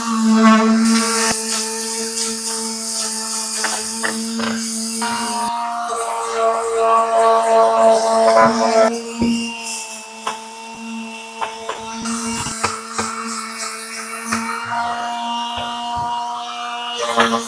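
A power sander whines loudly and continuously on the metal of a vintage Waterloo tool cabinet, its pitch shifting as it grinds, with brief pauses and scraping between passes.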